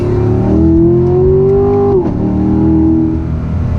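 A loud 2016 Corvette Stingray Z51 Coupe engine climbs steadily in pitch as the car accelerates, briefly dips during a gear change around two seconds in, then pulls again.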